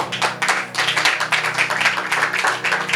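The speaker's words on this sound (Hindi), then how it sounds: "जोर से तालियां बजाएंगे" A church congregation claps loudly in a fast, steady rhythm during a Hindi worship service, continuous applause filling the room with no speech over it.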